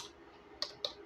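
A computer keyboard used to type an apt-cache command in a Linux terminal, heard as two crisp, close key clicks in a short quiet stretch.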